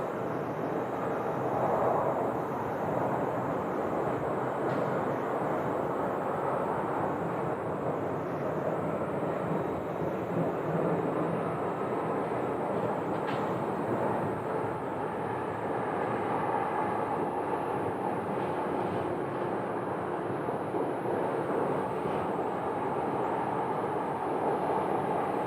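An American Airlines Airbus airliner arriving at Phoenix Sky Harbor Airport, a steady broad roar of jet engine noise that holds evenly throughout with no talking.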